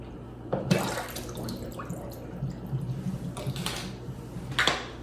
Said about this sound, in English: So I'm letting the water drain out